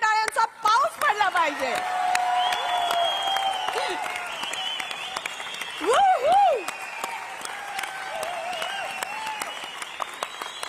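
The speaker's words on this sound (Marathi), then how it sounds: "त्यांच्या ब्रेक डान्स साठी टाळ्यांचा पाऊस पडला पाहिजे." Audience applause and cheering at a live public stage event after a break dance performance, sustained clapping across the whole stretch with crowd noise and an announcer's voice speaking over it.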